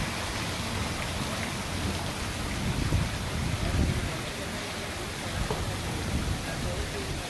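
Heavy rain pours steadily in Rurka Kalan, a dense, unbroken hiss of falling water that stays loud and even throughout without any pause.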